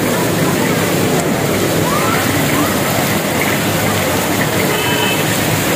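Heavy evening rain pours down steadily in a dense, loud hiss, with water running off a roof and drains flowing, continuous throughout with no clear breaks.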